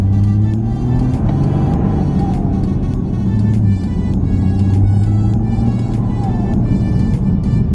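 A 2013 Porsche Panamera engine accelerates with a loud, steady low rumble and rising revs, heard continuously from inside the car for several seconds.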